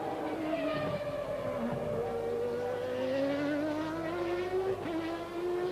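A Formula One car from the 1990 Portuguese Grand Prix qualifying at Estoril, its high engine whine climbing steadily in pitch as it passes the commentary box, loud and continuous for several seconds.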